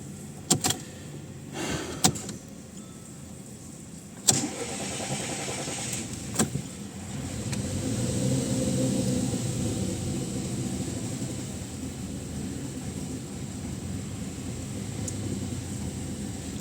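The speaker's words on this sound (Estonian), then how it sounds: "Gaas on põhjas." A newly bought car with under 50 km on it gives a few sharp clicks and knocks from a door or switch, then its engine settles into a continuous low rumble that holds for several seconds, fairly faint and with no talking.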